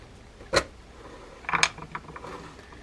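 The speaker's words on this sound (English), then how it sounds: "I'm going to remove the gear stack, then the click ratchet" Parts of a Quantum Bill Dance DCX low-profile baitcasting reel are taken apart, the gear stack and click ratchet coming out with a few sharp metallic clicks and faint scraping in a quiet room.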